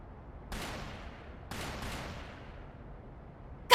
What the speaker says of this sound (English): Gunshots! From the next district!